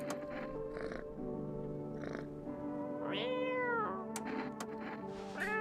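A cat meows several times in a stretched, rising and falling call, close and fairly loud over a steady background hum with music-like tones.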